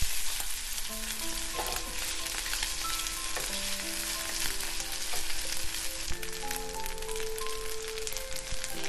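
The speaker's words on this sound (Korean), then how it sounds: "한입 크기로 조그맣게 부치면 더 예쁘지만 그냥 조금 넉넉하게 부쳐볼게요" Korean vegetable pancake batter pan-frying in oil, a dense, steady sizzle with crackling bubbles close up, running throughout.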